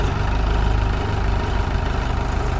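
An off-road jeep engine idles close by, a steady low rumbling throb with even mechanical pulsing that holds unchanged throughout, with no voices over it.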